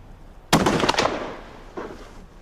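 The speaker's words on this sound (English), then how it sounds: "Just fire when you're ready, Martin." A single gun fired at a shooting target outdoors, one sharp loud crack that rings out and decays, with a fainter echo following about a second later.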